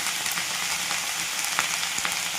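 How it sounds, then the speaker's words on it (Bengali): Chopped vegetables such as onion, tomato and cabbage frying in a pan with turmeric and cumin for a mixed-vegetable lentil dal; a soft steady sizzle with occasional light stirring clicks, no voices. "এবার আবার একটু ভেজে নিচ্ছি"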